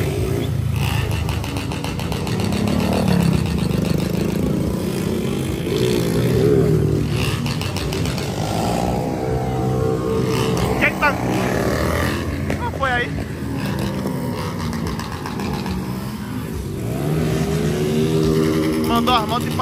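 Motorcycle engines rumble and rev continuously at a charity event in Dias Dávila, Bahia, where some bikes got stuck in mud, with people talking and shouting over the steady engine noise.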